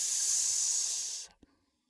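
A voice imitates a cat's hiss: one sharp, breathy hiss of just over a second, close and fairly loud, cutting off abruptly into a brief soft sound and then silence.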